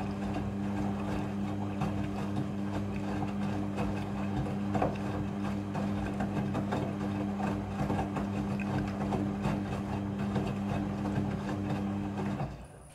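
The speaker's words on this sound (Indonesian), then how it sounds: "mesin cuci akan mengatur jumlah kebutuhan air secara otomatis" A Midea front-loading washing machine rinsing pillowcases, a constant low motor hum with a faint mechanical whir and soft water churning beneath it, steady and close throughout until it cuts off near the end.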